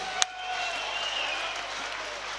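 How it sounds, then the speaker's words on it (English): An audience at a boxing event applauds both fighters after the bout, a steady wash of clapping and crowd noise with one sharp loud crack near the start. "let's hear a big round of applause for both of these warriors"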